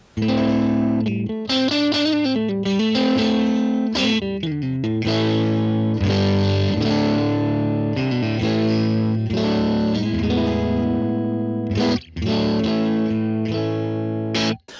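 Electric guitar with Tone Hatch pickups through a Helix, reverb off, playing chords and melodic lines with a slightly crunchy, lightly driven clean tone, continuous and loud, with a couple of brief pauses.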